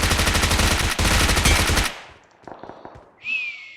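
Rapid machine-gun fire from the video game BGMI rattles loudly in a dense burst for about two seconds, then a few scattered single shots follow and a brief whistling tone sounds.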